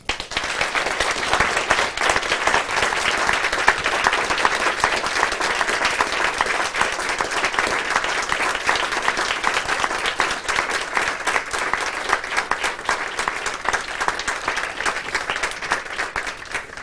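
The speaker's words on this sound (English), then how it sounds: "This is our last chance to give them a very, very big round of applause for their significant and terrific achievement" A large audience claps for the graduating diplomates at a Royal College of Surgeons ceremony, producing a big, steady round of applause that carries on evenly throughout without words.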